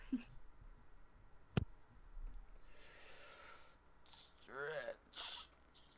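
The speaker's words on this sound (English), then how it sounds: "I'm gonna blow my nose again." A person blows their nose in a few short, wet, forceful bursts near the end, preceded by quieter breathing and rustling close to the microphone.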